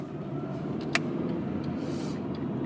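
A car rolls along the road shoulder, a steady low road rumble and engine drone filling the clip, with a brief sharp click near the middle.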